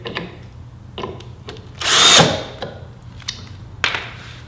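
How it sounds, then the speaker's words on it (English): A screw gun whirs in a sustained burst as a screw drives into wood for a magnetic bottle opener, surrounded by short clicks and handling knocks nearby. "I have the screw gun, and I have the screws perpendicular to the ground"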